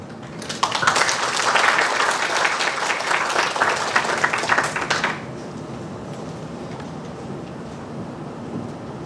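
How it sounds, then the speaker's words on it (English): An academic conference audience applauds a professor being introduced, a dense burst of clapping that swells quickly and holds for about four seconds before cutting off, leaving quiet room tone. "please give a big applause for Professor Du Jing from Nanjing Agricultural University."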